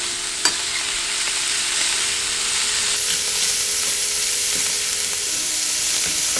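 Vegetables sauté on high heat in a pan with a steady, loud sizzle and hiss, a brief clink of stirring near the start, and no talking.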